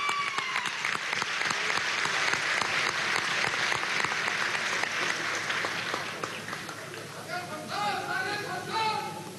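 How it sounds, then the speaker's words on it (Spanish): A crowd at a swearing-in ceremony for state governors and legislators in Lara and Trujillo applauds steadily for several seconds, the clapping thinning as chatter and voices rise near the end. "Un aplauso para ellos"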